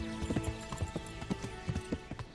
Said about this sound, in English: This horse is a little too fast now.